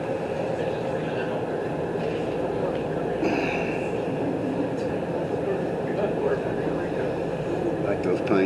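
Steady interior drone of a Las Vegas Monorail train running northbound, a continuous rumble and hum with faint squeals, heard from inside the car with a voice talking over it.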